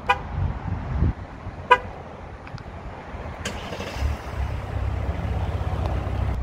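A 2024 Jeep Wagoneer L Series II is started by remote: two short horn chirps sound, followed a couple of seconds later by the engine catching into a low, steady idle rumble outdoors.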